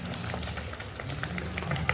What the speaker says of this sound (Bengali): এবার টমেটো কাঁচা গন্ধটা যতক্ষণ না যায় ততক্ষণ এটা আমি কষাতে থাকবো